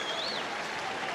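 Audience applause at an Australian Open tennis final, a steady dense wash of clapping filling the short stretch at even loudness, with a faint tonal line drifting through it.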